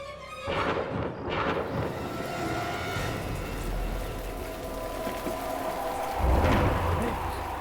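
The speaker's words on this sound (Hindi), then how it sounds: "ये तूफान कैसा?" Storm sound effect for a Hindi horror show set near a graveyard: heavy rain and gusting wind roar steadily, with rumbling surges at the start and again near the end, loud and unbroken, no talk.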